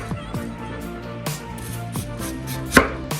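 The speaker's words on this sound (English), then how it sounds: "Now we're gonna slice the onion nice and thin also" A knife slices an onion thinly on a board in an outdoor kitchen, giving a handful of soft, irregular cutting strokes over steady low background hum, with one sharper knock near the end.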